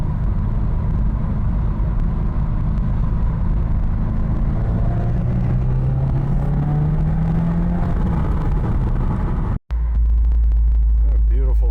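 A 2002 Subaru WRX wagon idles with its exhaust valves open, giving a steady, loud low rumble with a wavering tone, ended by a sharp cut and a brief deeper drone.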